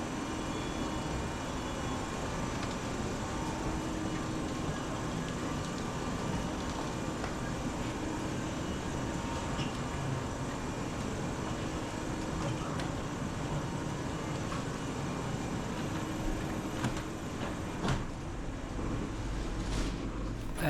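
Steady interior rumble of the Marconi Express train riding toward Bologna airport: an even, continuous hum of rolling wheels and motors throughout, with small clicks and no talking.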